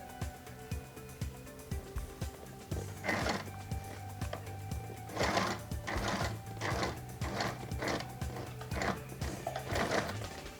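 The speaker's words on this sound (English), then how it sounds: "Now I'm about getting to the end point of the edge stitching" A sewing machine edge-stitching a pair of men's native trousers runs in short repeated bursts, its rapid needle clatter starting and stopping several times with quiet mechanical ticks between runs.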